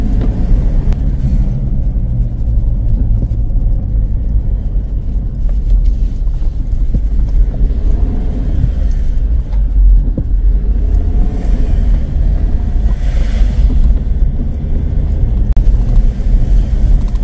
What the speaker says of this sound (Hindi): ऐसा आती है देखिए सामने से एकदम से गाड़ी